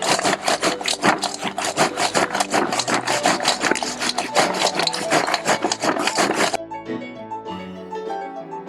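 A spoon scrapes and stirs crunchy kurma, a fried Diwali mithai, side to side in a pan, making rapid, rhythmic dry rasping strokes that end abruptly and give way to a quieter, softer rattle.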